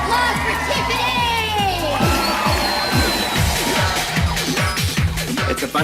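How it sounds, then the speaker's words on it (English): Guests at a party whoop, cheer and shout loudly over thumping dance music with a heavy, steady beat, and excited voices overlap throughout. "Let's give a round of applause for Tiffany."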